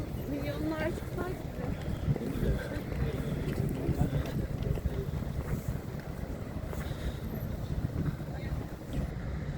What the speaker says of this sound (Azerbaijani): Havada biraz külək var.